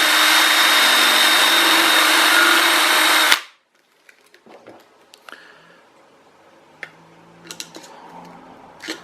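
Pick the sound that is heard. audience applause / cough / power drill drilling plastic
power drill drilling plastic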